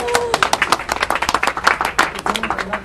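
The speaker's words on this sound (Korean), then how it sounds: "박수." A group of people clapping in quick, uneven bursts, close and fairly loud, with faint voices mixed in underneath.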